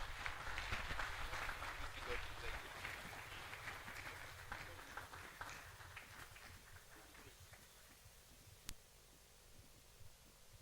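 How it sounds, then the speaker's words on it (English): Applause from an audience at a university research workshop, steady dense clapping that gradually thins and softens over several seconds, with faint voices mixed in. "Please keep clapping until he gets to his seat."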